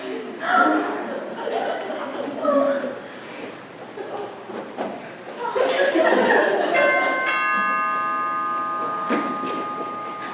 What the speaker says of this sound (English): friends don't have to ring the bell, just come on in.